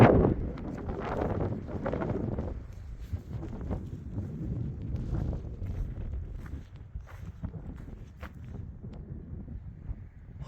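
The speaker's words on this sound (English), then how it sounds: "Got a little breezy." Wind gusting around a trail campsite during tent setup, buffeting the microphone with low rumbling blasts at the start, then a continuous rough flutter with scattered small knocks and rustles.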